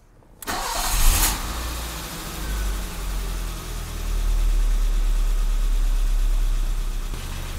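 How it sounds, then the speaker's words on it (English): A 1984 BMW E30 318i engine turns over and catches at the start, then settles into a steady, even idle around 1,000 RPM, close and loud with a constant low rumble and no talking. "that's idling like perfect"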